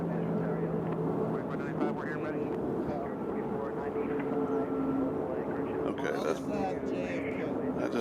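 An airliner arriving from JFK at Nashville International Airport, heard as a steady, distant jet rumble that swells slightly toward the end, with faint voices in the background.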